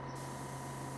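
An airbrush spraying paint onto prints hisses continuously, its air pressure set too high, making a steady close broadband spray with a faint constant tone underneath and no talking.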